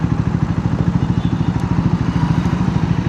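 A Triumph Scrambler 400X motorcycle idles close by, its bassy exhaust note thumping in a fast, even pulse, loud and steady with no one talking.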